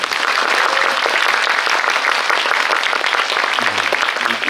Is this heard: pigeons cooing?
no